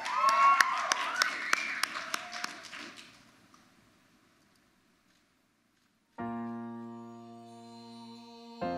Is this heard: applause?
yes